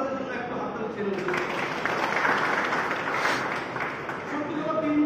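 Audience applause at a crypto business opportunity meeting for a token, a sustained, dense wash of clapping from a crowd that holds steady at moderate loudness throughout.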